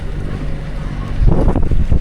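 Strong headwind of nearly 13 knots blowing over a sailing yacht at sea off Cádiz, Spain, heard as a loud, continuous roar of wind buffeting the microphone that swells heavier partway through.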